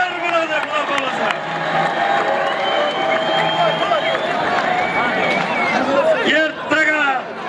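Large crowd applauding and cheering at a traditional wrestling event in a stadium during Navruz holiday celebrations in Uzbekistan, a dense continuous wash of clapping and shouts with an announcer's voice over it.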